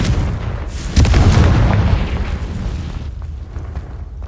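A Confringo blasting spell explodes in Hogwarts Legacy with a loud, booming burst and a sharp crack near the start, then a rumbling tail that fades gradually.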